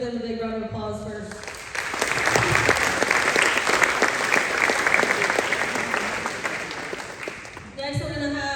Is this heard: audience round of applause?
yes